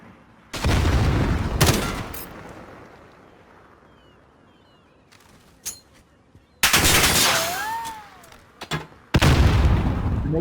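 Gunfire in a 1v1 shooter game tournament: loud bursts of rapid shots in three clusters, with a quieter stretch between them and a brief whooshing sweep during the second burst.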